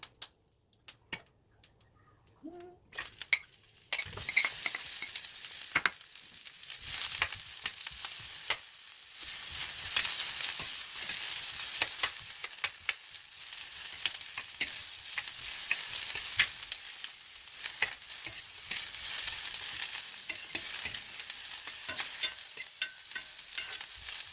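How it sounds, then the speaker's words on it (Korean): Onion and carrot stir-fry in a pan, a steady bright sizzle lasting over twenty seconds after a few scraping stirs at the start, close and continuous with no talk. "팬을 미리 준비한 양파와 당근을 볶아주도록 할게요."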